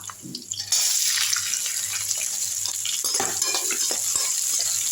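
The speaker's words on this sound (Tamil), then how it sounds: "வெங்காயம் நல்லா சாஃப்ட் ஆகிற அளவுக்கு நல்லா வதக்கி விட்டுருங்க" Onions, garlic and green chillies, with a little fennel seed, sauté in hot oil in a pan, giving a steady loud sizzle after a short quieter start, with scattered stirring scrapes and clinks throughout.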